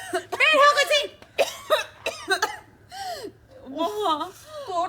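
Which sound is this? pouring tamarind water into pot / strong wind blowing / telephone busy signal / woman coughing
woman coughing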